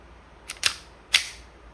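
Beretta M9A3 full metal CO2-powered pistol shooting steel balls: a few sharp, close pops, two in quick succession and then a third alone, each a short crisp crack over quiet background.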